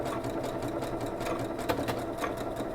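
A sewing machine stitching a buttonhole, its needle chattering in a fast, continuous, close-up rhythm without pause.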